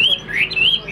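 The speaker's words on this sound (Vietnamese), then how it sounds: "Đây là một em họa mi cũng khá là khó kiếm các bác nhá" A caged hwamei, or melodious laughingthrush, sings a close, loud run of bright rising and falling whistled notes that carries on without a break.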